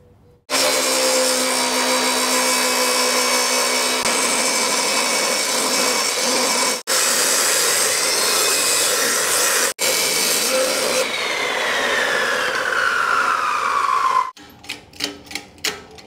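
A power tool cuts into the metal body of a 1960 Chevrolet El Camino with a Shell engine swap. It screams loud and steady for long stretches, stops briefly twice, then ends in a few short rattling bursts.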